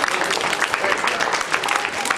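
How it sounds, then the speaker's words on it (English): An audience breaks into steady applause, a dense continuous wash of clapping that fills the whole stretch without letting up. "Let's give Kyle a round of applause."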